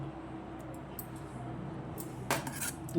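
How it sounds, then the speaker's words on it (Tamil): A spoon works curd into cooked rice in a metal vessel, with soft scraping and stirring followed by a couple of bright clinks of the spoon against the pot near the end. "பாருங்கள், தயிரை சேர்த்து நல்லா கலந்தாச்சு"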